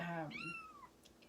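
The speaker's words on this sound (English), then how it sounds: "You may hear the little meowing." A small new kitten lets out a couple of clear meows close by, one short cry followed by a longer rising-and-falling mew, then a faint tap.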